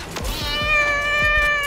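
A cat meows in the Fortnite video game, one long drawn-out, wavering cry heard close and loud over rhythmic low thuds from the game.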